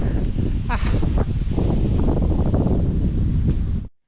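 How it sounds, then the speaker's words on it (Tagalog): Strong wind on a farm in Canada roars and buffets the microphone in a loud, continuous rumble, with a brief voice and some rustling before it cuts off abruptly. "lakas ng hangin"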